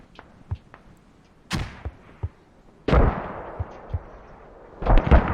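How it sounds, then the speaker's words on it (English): Mortar shells landing in a video game, a series of sharp distant thuds and louder booming impacts spread irregularly, with a few heavier blasts rumbling near the end. "Oh, it's kind of getting mortared. The mortars are landing north side."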